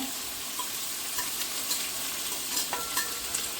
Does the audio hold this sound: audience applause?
no